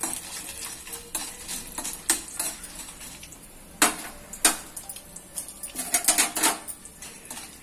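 Chillies fry in a pan for egg masala curry, with a soft sizzle beneath repeated clattering strokes of a spoon stirring against the metal, growing busier toward the end.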